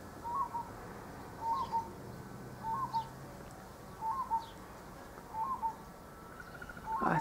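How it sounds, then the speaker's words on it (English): A grey cuckoo shrike calls outdoors, repeating a short soft whistled phrase about six times at even intervals, moderately distant over a steady background hiss. "I think that's a grey cuckoo shrike,"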